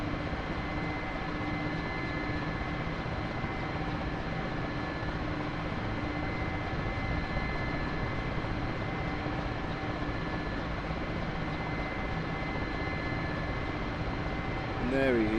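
A-10C jet in flight in the DCS combat simulator, with a constant droning engine roar and a steady whine, unbroken and close throughout.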